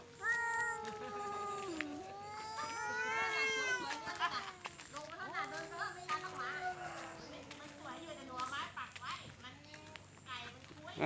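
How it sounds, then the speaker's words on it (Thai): A cat meows repeatedly in a garden with long, wavering, whiny cries close by, while someone talks softly in between. "ว่าไงเหมียว"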